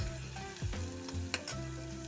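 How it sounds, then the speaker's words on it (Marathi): Onion sizzling as it sautés in a pan for a brinjal and potato curry, a steady close fry with a couple of brief stirring scrapes, fairly quiet, no voices. "त्या कांदा टाकलेला परतायला"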